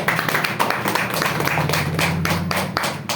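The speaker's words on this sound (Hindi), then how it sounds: "तो एक बार इनके लिए जोरदार तालियां" An audience at a business plan presentation breaks into hearty applause, a dense, continuous patter of many hands clapping for a few seconds with no talk over it.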